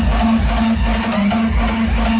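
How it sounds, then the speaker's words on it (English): Kloenk-style PVC kick drum in hard electronic music, a monotone punchy hit followed by a heavy gated bass tail, repeating in a fast steady pattern, loud and dense with no voices. "Kloenk kicks, also known as PVC kicks,"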